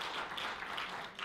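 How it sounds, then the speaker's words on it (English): Audience applause at a public teachers' live-streamed talk on math education, a brief burst of steady, dense clapping filling the room for just over a second. "You got applause."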